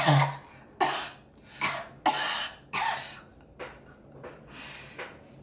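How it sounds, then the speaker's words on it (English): A series of about eight dry, harsh coughs, close and loud at first, then softer and shorter, with brief pauses between each. "Oh, a dry cough"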